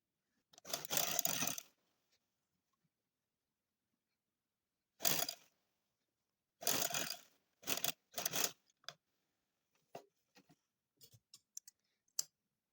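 A sewing machine stitching a tulip shalwar runs in short separate bursts between pauses, ending in a few brief clicks, close and clear with no talking.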